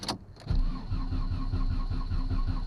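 An old Volkswagen engine that has sat unused for 19 years cranks with a steady rhythmic churning after a sharp click, the starter turning it over continuously and fairly loudly without catching.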